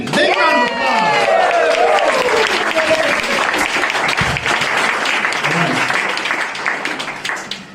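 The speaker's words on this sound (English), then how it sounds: "Big round of applause." A comedy club crowd bursts into applause and cheers to welcome a comedian to the stage, dense clapping with whoops and shouting voices layered over it, fading slightly toward the end.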